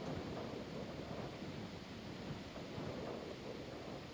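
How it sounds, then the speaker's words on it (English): A dense, continuous roar of heavy rain in the video game Indev+ with a low rumbling undertone like distant thunder, steady throughout with no voices. "Do I hear, like, thunder and lightning?"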